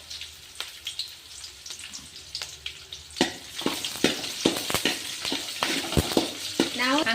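Garlic and green chillies fry in hot oil for a North Karnataka green chilli chuda, giving a steady close sizzle with sharp spatters and scraping stirs that grow busier in the second half.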